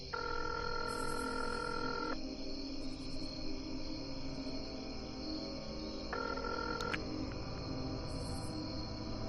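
Phone ringback tone while calling someone, steady electronic tone bursts that start, pause and resume over a constant hiss and insect-like chirping background, moderately loud with no talk.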